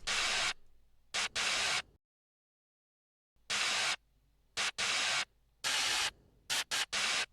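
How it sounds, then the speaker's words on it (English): Open hi-hat made from white-noise percussion in a trap-style beat, repeating in short bright bursts with a syncopated, bouncy rhythm and a pause midway; loud and close, alone without other drums. "It's just like a simple white noise perk."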